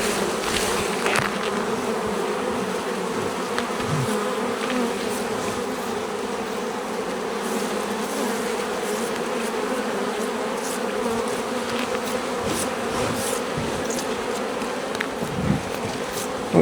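Dense swarm of honeybees humming steadily during a summer honey harvest at an apiary, a continuous close drone with occasional individual bees buzzing past, no talking.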